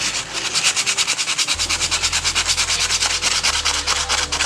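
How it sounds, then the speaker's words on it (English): Steady back-and-forth hand sanding on a knife handle, a rhythmic rasping stroke about four times a second, close and even, with a low hum underneath. "So a little hand sanding here."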